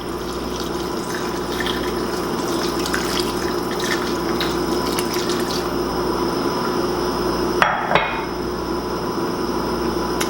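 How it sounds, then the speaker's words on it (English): Water runs steadily from a tap into a pot of beans and onion for Appalachian leather britches, a continuous broadband wash with a brief clatter near the end, heard alone without talk. "And then I want a little more water."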